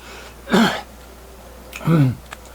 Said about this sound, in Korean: 자꾸 기침이 나오네